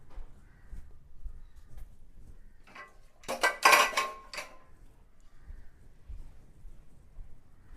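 A metal pressure cooker is picked up and handled in a home kitchen, giving a short burst of clanking and rattling metal in the middle with quiet, soft handling noise on either side.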